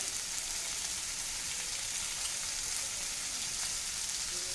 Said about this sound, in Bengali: আমি এর মধ্যে আলুগুলি দিয়ে নেব